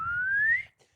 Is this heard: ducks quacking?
no